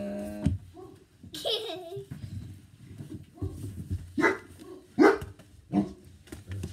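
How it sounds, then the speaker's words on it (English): Great Danes bark in a scattered series of loud, close woofs, with some breathy, laugh-like sounds mixed in between the barks. "annoying Great Danes are barking again"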